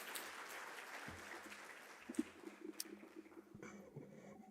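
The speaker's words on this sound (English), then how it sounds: "May we please give her a round of applause as she comes up stage?" Audience at a stakeholder roadshow in Johannesburg applauds as a speaker walks up to the stage, quiet scattered clapping that thins out and fades toward the end, heard from a distance.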